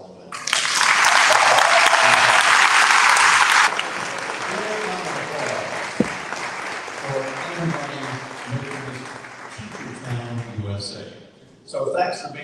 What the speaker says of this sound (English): And now you can applaud for all of them.